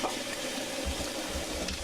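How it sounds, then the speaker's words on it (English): A toilet flush in The Cat Lady video game gives a steady, moderate rushing wash of water, with a few low gurgles in the second half and no talking. "Oh, I gotta flush it."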